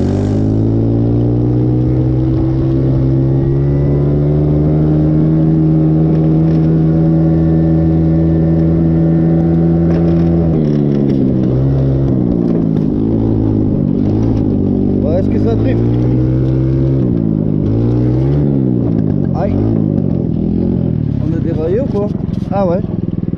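A gas buggy engine held at full throttle drones loud and close with a steady high pitch for about ten seconds, then wavers and surges up and down through repeated revs, with talking over it at times.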